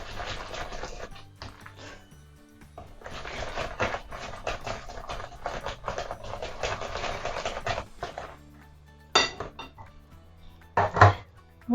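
Homemade yogurt dégué dessert being mixed vigorously in a bowl, a steady close scraping clatter for several seconds, then a pause and a few sharper knocks and taps.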